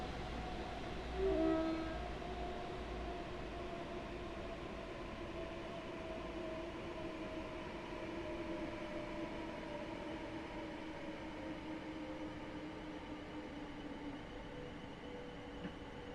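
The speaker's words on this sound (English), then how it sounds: "There's a Gatex going through there non-stop." A Gatwick Express train runs through non-stop in Train Sim World 3, giving a steady, even rumble with faint tonal whine, with a brief louder swell near the start and no talk.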